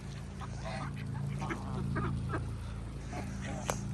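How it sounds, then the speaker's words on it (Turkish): Muscovy ducks and geese call in a steady overlapping chorus of honks and quacks, moderately close, with a low rumble of background noise and a brief voice in the mix. "Şunlar Muscovy Duck diye geçiyor."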